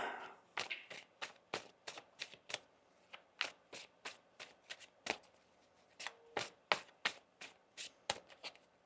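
Tarot cards being shuffled by hand, a rapid irregular series of crisp riffling slaps and flutters, close and clear in a quiet room, with no speech.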